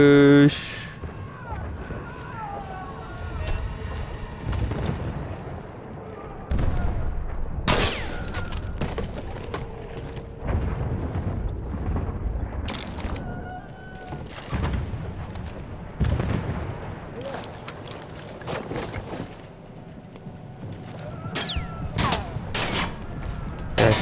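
Gunfire from German machine guns rattles through a World War I battlefield in Battlefield 1, with loud bursts and booms going off repeatedly for the whole stretch under a dense wash of combat noise.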